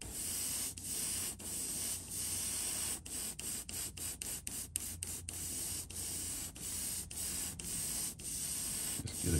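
An airbrush spray gun hisses steadily while spraying a shine coat onto the sides of a flat-sided Wiggle Wart fishing lure in a Tennessee shad pattern, with short bursts and brief pauses between passes, close and alone.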